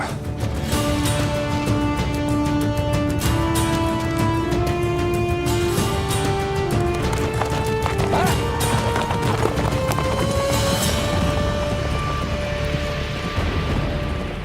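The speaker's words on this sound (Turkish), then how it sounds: "Atlar." Horses gallop in a historical Turkish drama set in the Ottoman founding era, their steady drumming hoofbeats running throughout under loud dramatic music with rising sustained notes.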